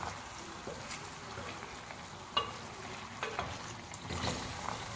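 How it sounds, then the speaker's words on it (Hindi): Garlic chicken karahi frying on a medium flame, a low steady sizzle broken by a few scraping stirs and clinks of a spoon against the pan, fairly quiet throughout with no talk. "थोड़ा सा मीडियम फ्लेम पर हम भूनेंगे"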